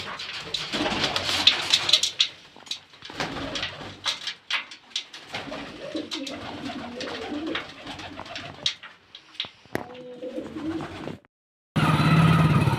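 Pigeons, including two blue ones, let out of their coop, with soft cooing and fluttering close by amid scattered clicks and rustles, followed by a short gap and a burst of louder broadband noise at the end.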